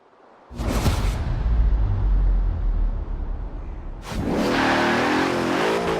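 A Bentley race car engine from the Le Mans racing era revs hard in Forza Horizon 4: a loud roaring rev opens, the engine settles into a steady drone, then a second rising snarl builds and holds near and loud.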